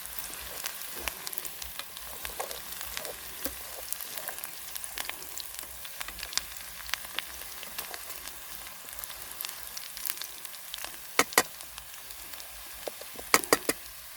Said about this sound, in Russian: лучок. Уже даже подгорать начинает слегка